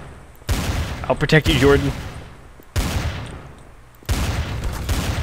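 Gunfire in the game Trouble in Terrorist Town comes as loud rapid bursts, three separate volleys with pauses between them, close and harsh. A voice shouts over the first burst.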